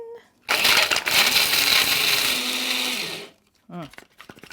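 A blender grinds candle nuts into a thick spice paste, a loud sustained whirring roar lasting about three seconds before cutting off, followed by a brief voice afterward.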